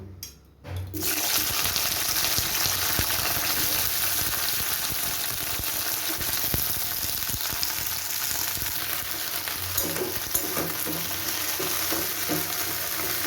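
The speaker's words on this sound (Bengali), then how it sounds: "প্রথমে আমি ঢ্যাঁড়সগুলোকে ভালো করে ভেজে নেব।" After a brief quiet start, okra sizzles and crackles in hot oil in a wok, a loud continuous frying hiss with occasional stirring clinks.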